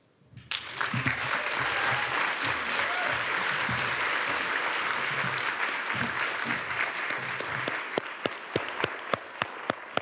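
Audience applause for the speakers at a climate event, a dense, loud wash of clapping from a crowd that holds steady for several seconds, thinning toward the end into a few individual claps.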